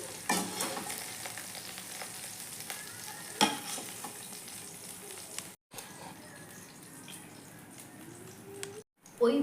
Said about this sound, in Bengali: ভিন্ডি সব কটাও ভেজে নিচ্ছি